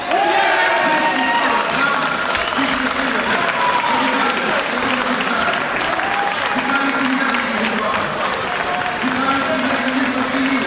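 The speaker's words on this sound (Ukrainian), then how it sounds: "Такими оваціями закінчилось у другому читанні голосування Верховної Ради за медичну реформу." Sustained, loud ovation fills Ukraine's parliament chamber after the second-reading vote on medical reform, with dense clapping and raised crowd voices rising and falling throughout.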